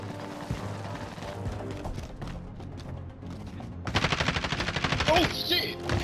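Gunfire erupts in a video game shootout, a rapid burst of loud shots crackling over continuous game ambience and background noise.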